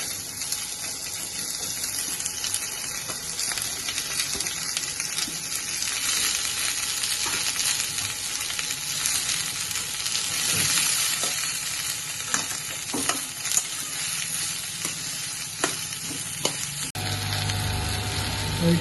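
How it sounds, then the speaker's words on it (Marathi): Onion frying in hot oil for a spicy Maharashtrian Konkani chicken curry, a loud continuous sizzle with stirring scrapes throughout, close and steady with no talk. "तेल गरम झाले, आता आपण भाजतोय कांदा"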